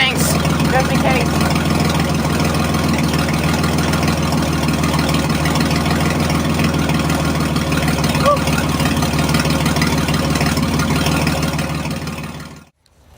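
A Nissan 300ZX Z31 engine, freshly rebuilt and smoking, runs at a steady idle with a low continuous drone and even mechanical hum, loud and close, before cutting off abruptly at the end.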